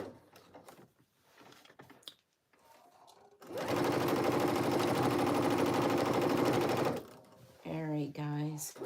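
A freshly cleaned sewing machine stitches a jacket in one loud, steady burst of rapid stitching lasting several seconds close by, with quieter handling noises before it and a voice speaking after it stops.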